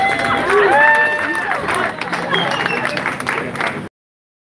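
A fundraiser audience applauds the producers at a hotel event, a broad wash of crowd clapping with voices and cheering over it, fading out before a sudden silence near the end.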